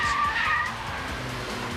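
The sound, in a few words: Nissan Pulsar hatch tyres squealing through a corner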